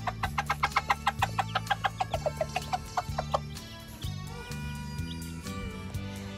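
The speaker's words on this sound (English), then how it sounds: "See, she makes that little noise, and that tells the chicks, hey guys, come get some food here." A hen makes a food call to her chicks: a fast, evenly spaced series of soft clucks, near and moderately quiet, over a low musical backing that continues after the clucking fades.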